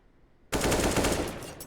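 A burst of automatic gunfire erupts in a Counter-Strike esports match after a near-silent start. The rapid shots come loud and close and hold for about a second before trailing off.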